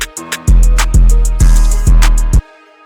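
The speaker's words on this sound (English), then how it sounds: "we're gonna have a bell that plays with the beat." A bright, ringing bell-like tone hits in a steady pattern over a heavy, booming Detroit-style beat with deep bass thumps, loud and upfront with no voices.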